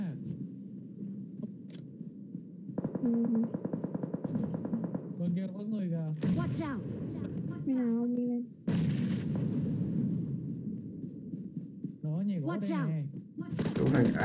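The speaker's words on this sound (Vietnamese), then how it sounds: "nhà gỗ bắn mình này" Gunfire in PUBG Mobile on the Livik map, shot from a wooden house: rapid bursts of shots with loud, close, rattling reports, heard under ongoing talk from several voices.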